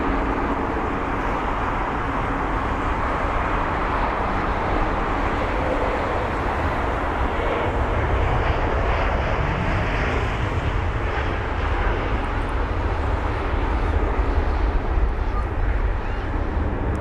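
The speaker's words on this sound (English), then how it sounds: "We've also got the United aircraft just taxiing in front of us now, really close." A United aircraft taxis close by at London Heathrow, its engines giving a steady, loud, broadband roar that holds evenly throughout without letting up.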